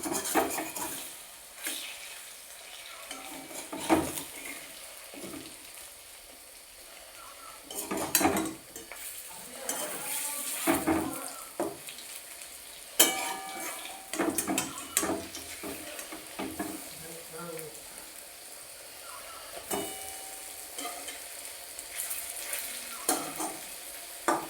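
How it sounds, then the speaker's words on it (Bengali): Drumstick leaf fritters sizzle and crackle steadily in a pan of hot oil, with occasional scrapes and clinks of a utensil turning them over; no talk. "আর এক পাশটা আমি ভেজে নিচ্ছি।"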